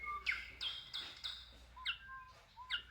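A city-birds sound book plays recorded bird calls, a string of clear, bright chirps and short whistled phrases repeating in quick bursts at low, steady volume with no talking.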